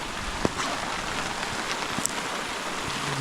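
Steady rain from a thunderstorm hisses evenly on a surface at a truck campsite in Colorado, with a few distinct drops tapping close by over the constant wash.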